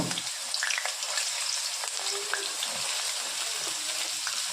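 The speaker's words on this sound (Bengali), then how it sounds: "এখন আলুটা আগে ছেড়ে দেব। আলুটা লাল লাল করে একটু ভেজে নেব।" Potatoes fry in hot oil with a broad, steady crackling hiss, moderately loud and even, with a few faint clinks over the top and no speech.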